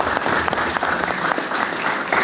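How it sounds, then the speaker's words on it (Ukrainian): Crowd applause fills the hall at an official event welcoming a new regional governor in Zakarpattia, dense and steady with individual claps popping through, loud and close throughout. "Ваші оплески."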